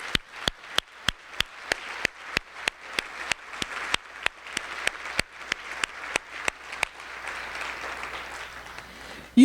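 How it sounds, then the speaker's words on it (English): A small awards-ceremony audience gives slow, sparse applause: distinct individual claps in a steady rhythm stand out over a softer wash of clapping that thickens briefly toward the end. "I think that deserves a round of applause."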